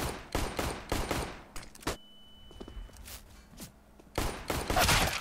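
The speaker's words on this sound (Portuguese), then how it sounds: "O cara tava tomando tiro" Bursts of rapid gunfire in Counter-Strike: Global Offensive crackle in quick volleys, pausing briefly, then resume loudly near the end, with footstep-like thuds between.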